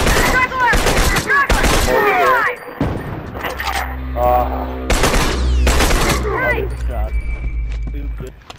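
Gunfire rattles through a video game battle in a bookstore, repeated bursts and single shots layered over game effects while players talk excitedly over it.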